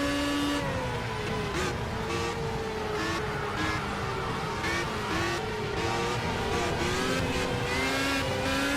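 Race car engine in Project CARS at Spa, a steady loud droning whine with shifting pitch as the car accelerates and shifts gears through a turn, continuous throughout with no talk.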